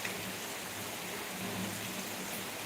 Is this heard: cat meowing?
no